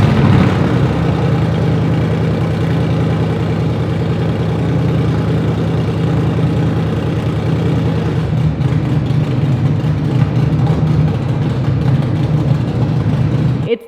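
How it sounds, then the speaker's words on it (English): A Ford Mustang GT engine with stock exhaust idles continuously up close with a deep, steady rumble and a slight lope, running unchanged for several seconds before cutting off abruptly. "turn on the car just to hear how it sounds without the exhaust"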